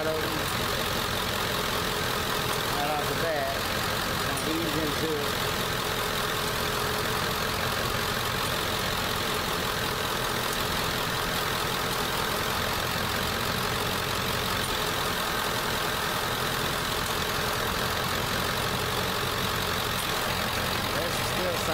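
A Ford F-150 from the 1987–99 range idles with its AC compressor running low on refrigerant during a recharge, giving a steady, close engine drone that stays even from start to finish.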